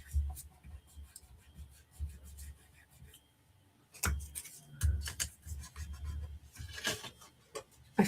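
Tape being applied during a crafting session: quiet intermittent rubbing and tapping, a short pause, then a busier stretch of pressing and smoothing sounds, close and soft, with no speech.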